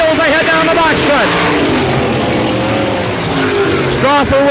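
Race cars at Selinsgrove Speedway in 1989 running wheel to wheel down the backstretch, engines roaring and passing close, loud under continuous commentary.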